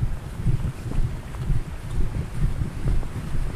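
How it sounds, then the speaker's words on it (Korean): Loud, steady rushing water of a mountain valley stream roars continuously, full and low, tumbling nearby with no voices. "물소리가 크고 우렁찹니다."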